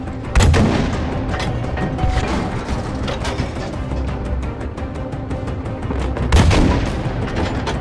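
Battlefield 5 war-story combat, with soldiers returning fire alongside an enemy tank: loud, dense gunfire and artillery booms, two heavy blasts near the start and end framing a continuous rattle of shots and mechanical clatter.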